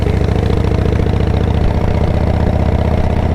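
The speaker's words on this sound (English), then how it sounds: "Joker here has a 100-inch RevTech engine, and you can tell by his aggressive sound" A chopper motorcycle with a 100-inch RevTech V-twin engine runs steadily with a loud, deep, throbbing idle and a constant rumble, very close and with no voices.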